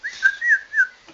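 Bird sound effects play in the background of a live market webinar: one short, clear, warbling whistle of rising and falling notes, heard on its own with no talking.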